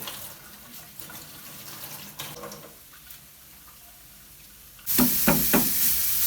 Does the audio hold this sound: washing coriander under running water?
yes